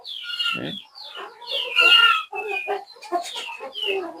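Indigenous local chickens and a rooster on a poultry farm, clucking, squawking and calling over one another in a busy, close chorus with no talk.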